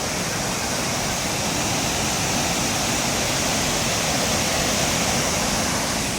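Shifen Waterfall in Taiwan roars as a dense, constant wash of rushing water, loud and close, with no voices over it.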